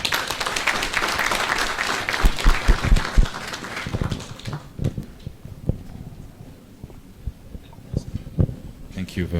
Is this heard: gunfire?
no